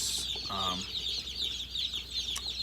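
Chickens cluck in an old chicken coop, with a steady chirping chorus of chicks running throughout and one louder cluck near the start, close and fairly busy.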